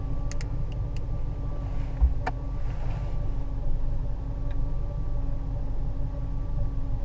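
A vehicle engine idles steadily up close during a battery charging test, with all accessories switched off, giving a constant low hum with a faint tick and a couple of brief clicks near the start.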